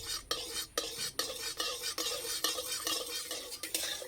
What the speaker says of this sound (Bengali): চিনিটা একটু ক্যারামেল করে নেব।